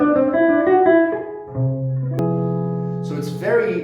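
Guitar plays a scale then sustains a chord in the Lydian augmented mode, the third mode of melodic minor, with ringing notes alone and no talk.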